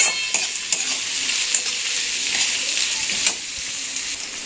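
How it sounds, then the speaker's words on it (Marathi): Chopped onion sautés in an oil-filled pan with a pinch of salt, giving a steady close sizzle throughout with light stirring scrapes and a few utensil clicks against the pan. "आणि पटकन कांदा परतण्यासाठी थोडंसं मीठ टाकते मी कांद्यावरती"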